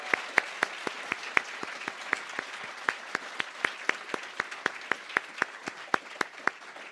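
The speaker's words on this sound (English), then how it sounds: "I think the resounding applause says that that both sides did such a fantastic job" Audience applause after a medical school debate, steady crowd clapping with scattered sharp individual claps standing out, sustained and moderately loud throughout.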